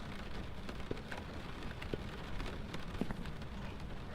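Steady rain pours without a break in the ghost-hunting game Phasmophobia, a dense hiss with a few sharper drops or crackles standing out. There are no voices.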